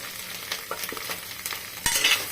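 Cauliflower and egg bhujia is stirred in a frying pan, a spatula scraping and tapping in quick close strokes over a soft sizzle, ending with a louder clatter.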